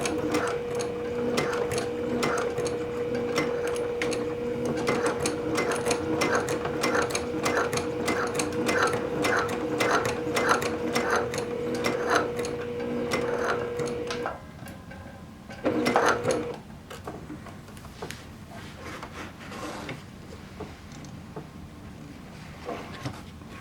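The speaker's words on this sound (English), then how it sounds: "I've got a narrow foot on my machine so I can get close to this buckle up here when I'm sewing this" A sewing machine with a narrow foot stitches a bag strap close to a buckle, a steady rapid mechanical chatter for several seconds, then stopping, followed by a few handling knocks and quieter fiddling.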